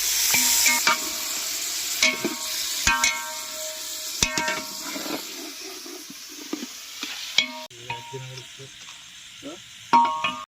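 Chopped Kadaknath chicken frying in a pan with fried onions and chillies, cooked outdoors in Tadoba Forest; a steady loud sizzle with repeated metallic clinks and scrapes of a spoon stirring.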